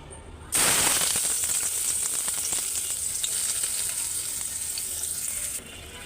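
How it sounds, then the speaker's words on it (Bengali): Two bay leaves dropped into hot oil for a prawn curry burst into a loud, steady sizzle that holds for about five seconds, then drops back to a quieter hiss near the end. "তেল গরম হয়ে গেছে, দুটো তেজপাতা দিয়ে দিলাম।"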